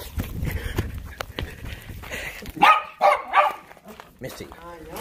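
A dog barks repeatedly as it is chased outdoors during play, the sharp barks rising in clusters near the middle of the clip, with a person talking loudly over and between them and some thumping footsteps.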